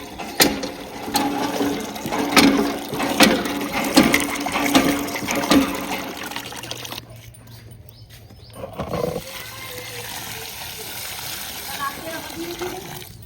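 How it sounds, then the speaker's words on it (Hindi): A woman works a village hand pump before dawn, drawing water with steady rhythmic strokes and splashing gushes, close and fairly loud, that settle into a quieter, continuous flow of water. "ये गई है नल से पानी निकालने के लिए और इस नल से ये पानी आसानी से निकाल लेती है।"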